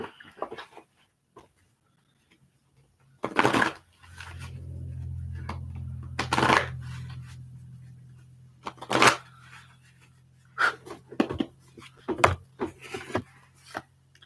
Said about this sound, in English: I'm shuffling right now, so just give me a little bit.